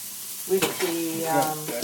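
Mussels and garlic sautéing in a pan for a coconut curry sauce, a steady close sizzle with stirring scrapes and brief tonal clinks, no talk.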